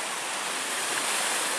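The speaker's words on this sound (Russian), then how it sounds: "Вот такая вот волна идет." Black Sea surf on a rough day near Dzhankhot breaks in a continuous loud, broadband wash of foaming water, steady and close with no voices.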